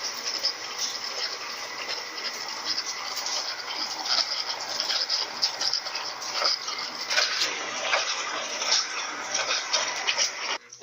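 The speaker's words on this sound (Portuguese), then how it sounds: "Esse barulho aqui não é da máquina, é da água da máquina que tá caindo bem ali." Water from an LT12F washing machine on a heavy wash cycle pours down in a steady broadband splashing rush, continuous and moderately loud throughout.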